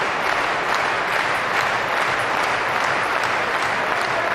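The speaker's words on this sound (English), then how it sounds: "Table tennis fans looking for an incredible match here, clapping on Freitas to come back" Crowd applause at a men's singles table tennis match at the 2017 German Open: a steady, dense wash of clapping from a large audience, loud and sustained throughout with no talk over it.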